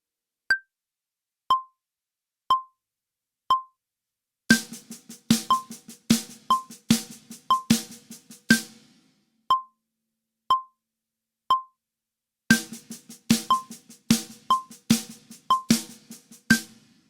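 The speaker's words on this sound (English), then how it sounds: "this is basically how it sounds together with the metronome just on the snare drum." A metronome clicks steadily, alone at first, then joined by a snare drum playing linear groups of four, fast runs of crisp hits locked to the beat. The pattern stops, the clicks continue alone, and the drumming returns.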